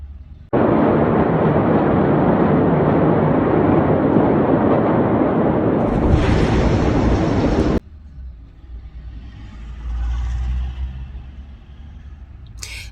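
The 2020 Beirut port explosion roars loudly and continuously for several seconds, then cuts off abruptly, leaving a quieter rumbling background.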